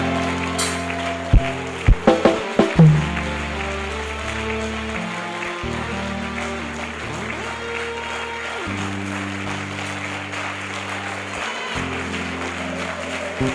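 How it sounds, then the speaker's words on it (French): A church congregation claps during a worship service, a continuous wash of applause blended with loud sustained music, with a few sharper bursts early on. "Acclame plus fort, plus fort, plus fort. Acclame plus fort, s'il te plaît."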